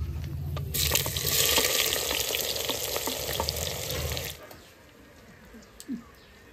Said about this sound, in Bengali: দেখো, পেঁয়াজটা দিয়ে দেবো।